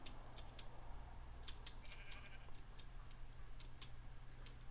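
Repeated short sheep bleats from the Minecraft video game, fairly faint and scattered over a steady low hum, with no voices.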